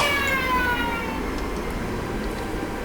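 A prison lunch siren in the Infinite Space video game wails in falling tones at the start, then fades into a low steady hum, with no talk.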